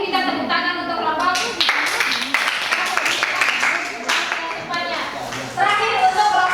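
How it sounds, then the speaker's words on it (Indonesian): Classroom applause for a student group after a presentation, with children clapping steadily across the room and scattered voices talking over it. "kita tepuk tangan untuk kelompok"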